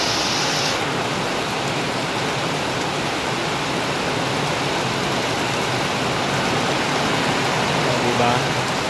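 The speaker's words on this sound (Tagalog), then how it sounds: "Grabe ang lakas ng ulan." Heavy rain pours in a dense, steady roar that stays loud and unbroken from start to finish, with no voices over it.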